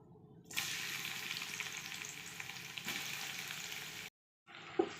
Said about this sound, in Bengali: প্যানে তেল গরম করে নিয়েছি, পেঁয়াজ ভেজে নেব।